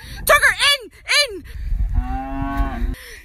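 A herd of cows moos in a field: two short, rising calls, then a longer, drawn-out low moo, loud and close.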